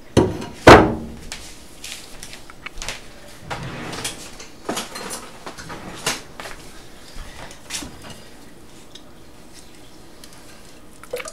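A spoon scrapes frozen milk-and-cocoa dessert out of a container, with a sharp knock at the start followed by scattered scrapes, taps and clunks, close and intermittent against a quiet background.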